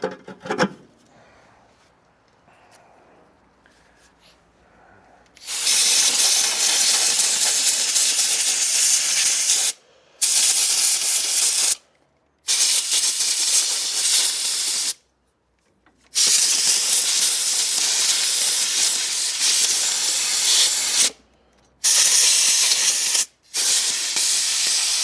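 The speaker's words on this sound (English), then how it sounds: "just blow around those injectors. Some compressed air." Compressed air blasts around the engine injectors with the cover set back on, coming as loud, broad hissing bursts of several seconds each, separated by short silent gaps, after a quiet opening.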